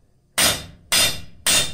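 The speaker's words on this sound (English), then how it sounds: "Always register that corner before you hammer on it again." A hammer strikes hot steel on an anvil while forging blacksmith tongs, three loud ringing blows spaced about half a second apart, close and alone.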